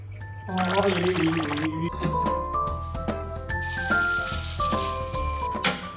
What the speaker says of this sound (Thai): เดี๋ยวจะบอกวิธีการทอดหมู